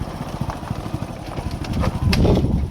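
Steady hoofbeats of a Kathiawari mare clip-clop at a quick, even trot on a hard, rain-washed road, with a low rumble of traffic behind.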